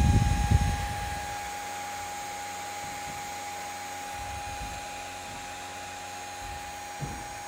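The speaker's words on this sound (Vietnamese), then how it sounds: "Để các bạn nghe tiếng quạt rất mạnh luôn." A 150W Peltier cooler with an aluminum CPU heatsink runs its strong cooling fan off a 3S battery, producing a steady, loud whirring rush with a constant tonal whine, plus a brief clunk at the start.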